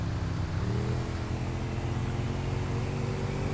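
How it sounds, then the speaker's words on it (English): A motorbike engine hums nearby in GTA 5, a steady droning whine with slight pitch shifts, continuous and fairly loud for several seconds. "Every time I hear a motorbike near me, I get excited,"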